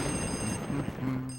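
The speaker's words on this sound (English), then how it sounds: "The phone's ringing." A telephone rings inside a haunted mansion in the Luigi's Mansion video game, a steady electronic ring under a dense, humming background drone.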